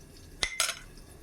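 A spoon clinks against a pot while ghee is stirred into dalia (broken wheat) khichuri: two quick, close metallic taps with no one speaking.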